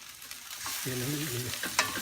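Vegetables being stir-fried for pancit bihon guisado, a constant close sizzle of frying with brief stirring scrapes, a short tonal squeak partway through and a sharper knock near the end.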